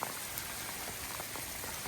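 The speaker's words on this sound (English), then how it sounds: "Oh, I hope this rain stops." Rain falling outdoors during a flint hunt in Scandinavia, a faint steady patter of drops on surfaces forming an even wash of noise with no voices.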